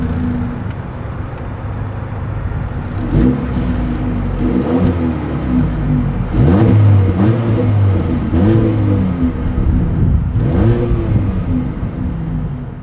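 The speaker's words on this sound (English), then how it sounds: "here is that exhaust clip" A 2024 Mercedes-Benz GLA 250 with dual exhaust idles close by, then revs several times in rising, falling sweeps, its engine note climbing and dropping repeatedly.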